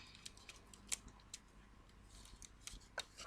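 Small scissors snip paper while a doll umbrella is being made, giving a handful of crisp, close, light cuts spread over a few seconds against quiet room tone.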